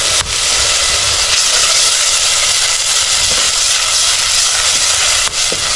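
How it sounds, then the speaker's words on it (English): A pot of tomatoes boiling over an outdoor fire for pilao in an African village, giving a steady, loud steaming hiss with a faint bubbling rumble underneath for the whole stretch. "we are going to be putting the tomatoes for them to boil"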